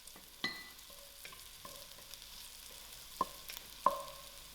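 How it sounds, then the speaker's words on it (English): Garlic goes into softened fried onions in a pan, giving a faint, quiet sizzle with a few light clinks of stirring. "To my onions, I'm going to add in my garlic,"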